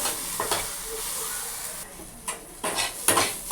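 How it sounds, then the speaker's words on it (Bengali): Fish curry frying in a pan while being stirred, a low steady sizzle broken by several close metallic scrapes and clinks of a spoon against the pan. "ভালো করে নাড়াবো, এটা ভাজা ভাজা হবে"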